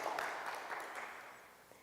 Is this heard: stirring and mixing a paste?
no